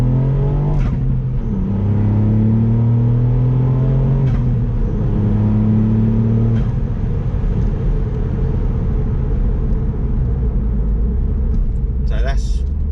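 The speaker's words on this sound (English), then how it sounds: "So that's sort of accelerating fairly hard through the gears with all the windows shut." A MK8 Ford Fiesta ST with a Scorpion GPF delete exhaust accelerates hard through the gears with the windows shut, its engine note rising and dropping at each shift under a loud, constant cabin rumble.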